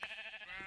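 A sheep in the video game Minecraft gives one wavering, nasal bleat lasting under a second, fairly faint and heard alone.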